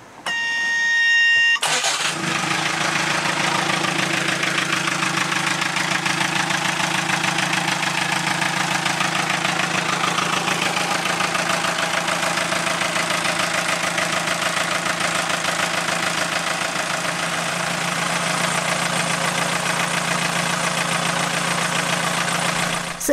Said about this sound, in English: So what we need to do now is to start the engine and see what happens.